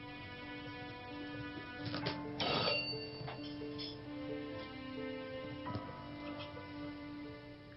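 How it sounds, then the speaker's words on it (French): An indoor telephone rings in a few short electronic bursts over a faint tonal hum, moderately quiet and with brief clattering between the rings. "N'as-tu pas entendu la sonnerie?"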